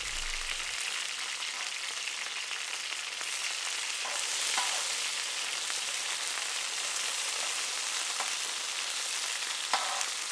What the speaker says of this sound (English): Despite the strong sizzling sound, I'm not cooking here at a terribly high temperature.